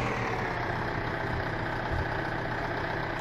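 A tractor in the Farming Simulator 15 video game idles on a weighing scale, a steady continuous engine drone at even volume without speech.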